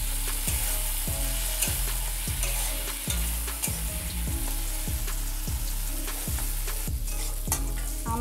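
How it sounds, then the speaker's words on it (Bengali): Grated coconut stirred with spices in a frying pan, steady sizzling under a regular series of spoon scrapes against the pan, close and fairly loud with no voices. "এবার ভালো করে আমি নাড়িয়ে নেব"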